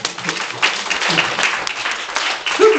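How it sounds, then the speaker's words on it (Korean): Applause from an audience at a self-advocacy speech contest for people with developmental disabilities, a steady moderate patter of many hands with some voices mixed in throughout. "박수 한번 쳐줘"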